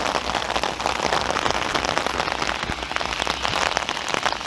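Heavy rain pours down steadily onto a surface during a flash flood, a dense, loud, continuous hiss of drops with no voices over it.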